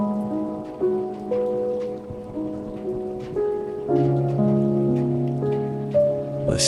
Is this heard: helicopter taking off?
no